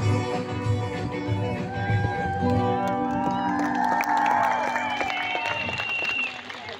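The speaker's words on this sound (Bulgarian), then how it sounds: "Аплодисменти и за тях" An audience applauds and cheers after students finish a rap at a school graduation send-off. The clapping and whoops are loud and continuous, music fades underneath, and children shout in the crowd.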